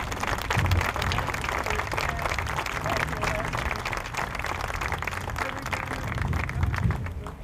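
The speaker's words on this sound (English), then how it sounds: "How about one more round of applause for all the participants in today's program?" Outdoor audience at a 2017 Memorial Day ceremony in Crest Hill applauds the program participants, a steady wash of clapping from a crowd that holds for the whole stretch, with some voices mixed in.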